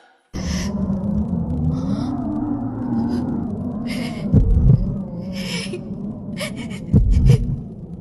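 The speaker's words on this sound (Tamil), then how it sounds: "உன் இதய துடிப்ப நான் உனக்கு கேட்க வைப்பேன்" A heartbeat effect in a Tamil TV serial scene: a couple of deep, heavy thumps sound under a sustained tonal drone, with breathy bursts of noise scattered throughout.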